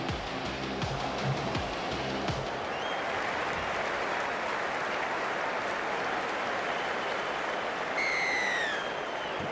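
Stadium crowd at a rugby league match in the Rugby League 26 video game, England versus Scotland: a steady, dense wash of crowd roar and cheering throughout, with faint bursts of voices and whistles, no clear speech.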